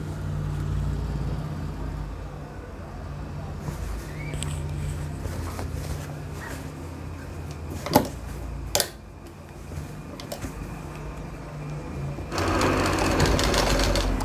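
A sewing machine runs steadily while stitching a double bone pocket on the back of a pair of pants. Its continuous mechanical whir is interrupted by a couple of sharp clicks, followed by a short lull, and then it picks up again louder near the end.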